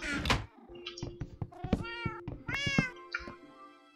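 Cats in the Minecraft video game meow several times in quick succession, clear and close, with short synthetic cries overlapping one another and a soft thud or knock between them.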